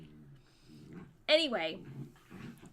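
Dog growling and whimpering while playing with a toy, close to the mic in a brief loud burst, with a person talking around it.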